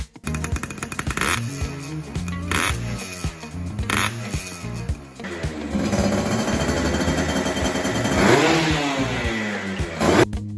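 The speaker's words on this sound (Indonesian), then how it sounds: "coba dengarkan suara motor ini." A two-stroke motorcycle engine in Indonesia revs up close and alone, with a raspy, rattling buzz that climbs to higher, sustained revs toward the end.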